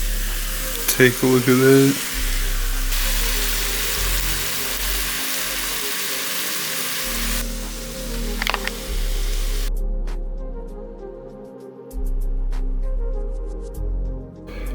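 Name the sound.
food sizzling as it cooks in a pan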